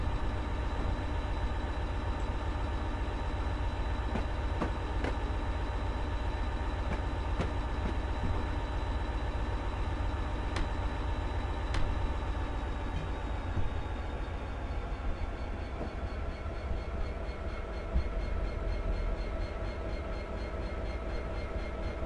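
A diesel train in Train Simulator's Settle to Carlisle route rumbles along steadily with a low engine drone and rhythmic clacks over the rails, constant and fairly loud throughout.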